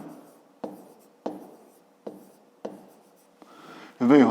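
Pen or pencil writing out a fifth-grade math exercise on paper, heard as several short scratchy strokes at a steady rhythm, close and fairly quiet, ending in a louder burst of rubbing.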